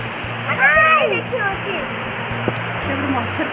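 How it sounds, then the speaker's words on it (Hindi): Heavy rain falls in a steady, loud hiss that fills the scene, with brief voices and tonal chirps rising over it early on. "इतना बारिश हो रहा है"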